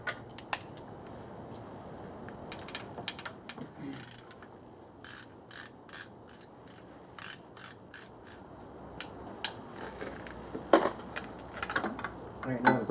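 Ratchet wrench turning a deep 13 mm socket on an extension to remove a bracket bolt under the ignition coils of a 1995 Oldsmobile 88 3800 V6. It gives rapid bursts of close, crisp clicking with short pauses between strokes.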